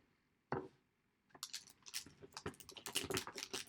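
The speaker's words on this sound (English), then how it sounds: "that piece that you hear crinkling is a skinny piece of plastic that you keep to cover your photopolymer stamp sets" Thin plastic cover sheet from a photopolymer stamp set crinkling close by, starting with one rustle and then a busy stretch of rapid crackles and crumples at card-making, with no talking.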